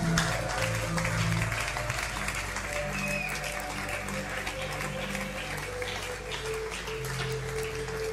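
A church congregation at a French-language worship service applauds steadily and continuously, a dense wash of clapping over a low hum and faint sustained tones.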